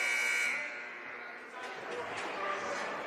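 A loud electronic buzzer ends a period at a youth 14U AA ice hockey game in a rink, blaring for about half a second and then fading into arena crowd noise and echo.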